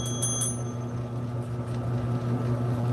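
A small desk bell is rung three times in quick succession to thank a viewer for a super chat during a livestream, bright and close at the start, then fading over a low steady hum.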